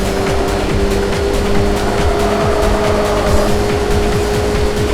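Mazda MX-5 engine in the PS2 racing game C1 Grand Prix, revving steadily with repeated rising gear-change sweeps and occasional tire squeal, loud and continuous throughout with no talk.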